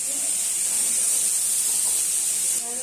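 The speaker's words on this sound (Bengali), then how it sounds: "আর এখানে কুঁদরি ভাজাভাজি করছে এখন" Ivy gourd (kundru) frying in a pan, a steady bright sizzling hiss that carries on for about three seconds, fairly close and without talk.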